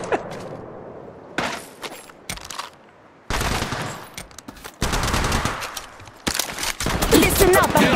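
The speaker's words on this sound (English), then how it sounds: "Listen up, I'm getting shot." Bursts of rapid automatic gunfire in the mobile battle royale game Apex Legends Mobile, loud and close, broken by short pauses and weapon handling noises, with a voice heard speaking under the shooting.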